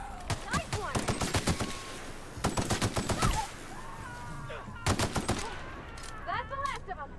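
Rapid bursts of automatic gunfire from The Outer Worlds video game crackle in several loud volleys, separated by short gaps filled with game effects and a voice talking.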